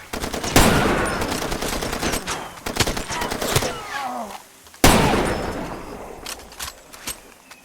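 Gunfight in the video game Red Dead Redemption 2: loud bursts of rapid gunfire and sharp single shots with echoing tails, separated by brief lulls, all close and forceful.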